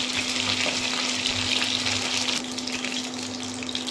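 Chicken pieces frying in oil give a strong, even sizzle with bubbling crackle and occasional stirring, close up over a low steady hum, with no one speaking.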